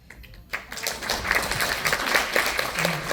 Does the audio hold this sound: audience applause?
yes